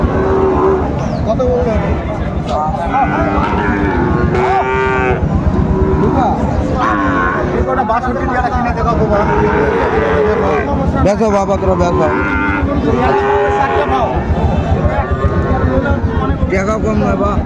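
Sahiwal bull calves low at a busy cattle market in Chittagong. Drawn-out moos rise over constant crowd chatter and someone talking nearby.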